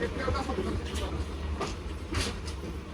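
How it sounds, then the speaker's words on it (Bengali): The Bijoy Express intercity train from Chattogram to Jamalpur rumbles along the rails with a steady roar and periodic clattering from the wheels, heard from on board. "ভৈরব বাজারে পাঁচ যাত্রা বিরতি দিয়ে ট্রেন ছুটে চলেছে"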